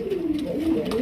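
Pigeons kept for sale cooing in a low, wavering drone, a few soft rolling calls close by with faint background noise and no talk.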